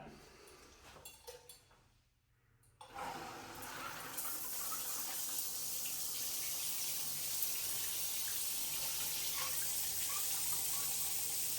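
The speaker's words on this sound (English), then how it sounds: "let's run some water through it and test it out" After a few seconds of faint clatter, an 8-inch square rain shower head turns on and water rushes steadily, a broad hissing spray that continues loudly to the end.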